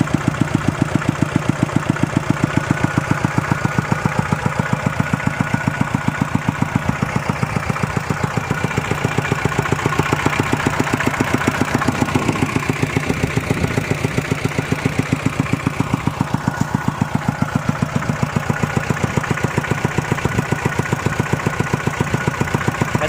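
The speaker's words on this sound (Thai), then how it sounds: "ยุบมากเลยครับ ปั๊มหอยโขง" Engine-driven centrifugal water pump idling while pumping water into a rice paddy, a steady close mechanical chugging with an even rapid rhythm that runs continuously without change.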